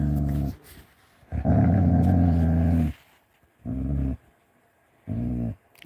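Dakota, a talkative dog, lets out a series of low growling vocalizations in four separate bursts, close and fairly loud, with quiet gaps between them.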